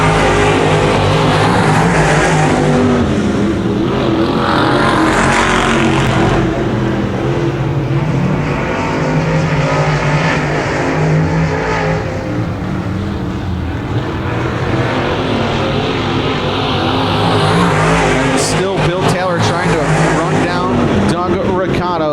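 Dirt track late model race cars roar around a dirt oval at Genesee during a RUSH Late Model heat, a loud continuous engine drone with passing surges, under a race announcer's commentary.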